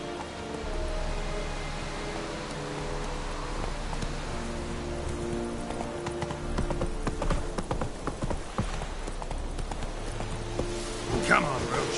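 Roach the horse gallops in The Witcher 3, rapid steady hoofbeats thudding on, with rain-like patter and a voice speaking over the rhythm, the hooves growing busier toward the end.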